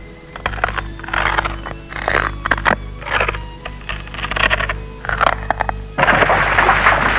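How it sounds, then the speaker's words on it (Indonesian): Ore-bearing rock blasted deep in the Freeport mine in Papua: a rapid series of sharp, booming bursts over a steady low rumble, ending in a louder, sustained roar. "bagian-bagian yang mengandung biji diledakkan"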